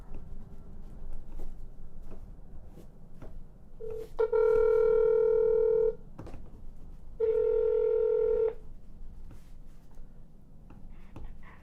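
A telephone call to the Lucas County, Ohio prosecutor's office rings out twice, long steady buzzing ring tones with a pause between, over quiet room noise and faint taps, without talking.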